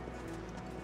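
Horse hooves clip-clopping at a steady walk, close and continuous through the short stretch with no talking.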